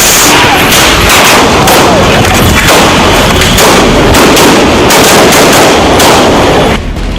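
News footage of a shooting carried live on television, with 36 rounds fired: very loud, continuous rapid gunfire bursts in a chaotic crowd scene, with voices mixed in.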